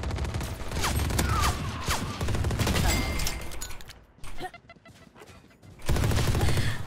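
Bursts of gunfire in the Valorant video game, sharp repeated shots over the first four seconds with game sounds and a voice talking between them.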